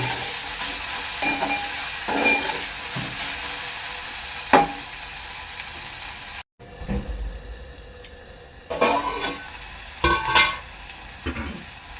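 Vegetables cook in a covered pan with a soft continuous sizzle. Scattered stirring scrapes and clanks of a lid or spoon come close, and the sound breaks off briefly partway through.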